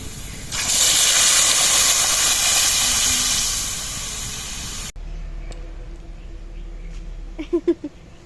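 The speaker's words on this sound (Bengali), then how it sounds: "পেঁয়াজটা ভাজা হয়ে গেছে এবার ডালটা ফোড়ন দিয়ে দেবো" Masoor lentil dal hits hot oil with fried onions in a village-style kitchen, bursting into a loud, close, hissing sizzle that holds for about four seconds, then cuts off abruptly to quiet clinks and faint kitchen sounds.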